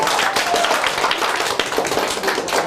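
Studio audience applause on the Ukrainian TV quiz show "Ігри інтелекту", dense and steady hand clapping filling the room for a few seconds, close and fairly loud with no talk over it.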